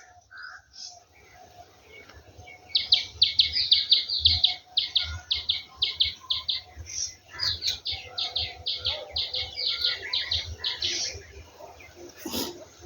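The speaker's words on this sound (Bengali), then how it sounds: "কয়েকটা পাখি ডাকছে, শুনতে পাচ্ছেন নিশ্চয়ই।" Several birds, including crow-like caws, calling in quick repeated bursts near a quiet sea shore on Henry Island, West Bengal, fairly close and continuous over a low background hiss.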